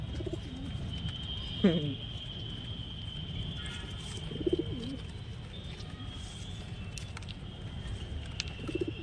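Pigeons coo in a few soft, rolling bursts spaced several seconds apart, close by over a steady low background hum.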